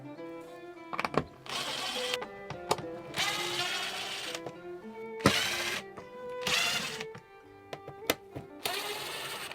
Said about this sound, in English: take the screws out the back